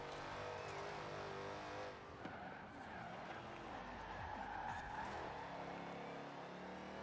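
A race car's engine roars through a racing video game, the drone shifting as the car takes a turn with tire squeal and skidding, loud and continuous.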